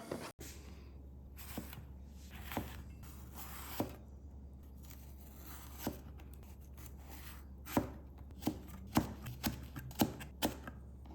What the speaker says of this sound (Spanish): Tomamos nuestra cebolla, le quitamos el corazón y la cortamos en lonchitas